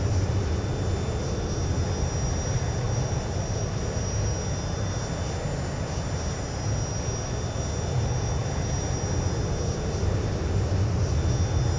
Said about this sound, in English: The sounds are kind of seems a bit strong on the engine sounds.